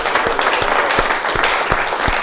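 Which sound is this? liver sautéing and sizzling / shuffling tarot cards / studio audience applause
studio audience applause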